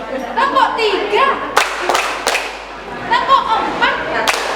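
Preschool children clap together in a classroom clapping pattern, with a quick cluster of three sharp claps and another later, mixed with children's chanting voices throughout.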